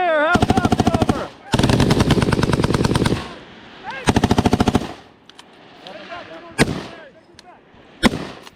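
Machine guns fire during military training in long rapid bursts, very loud and close, each burst trailing off into echo before a few single sharp shots.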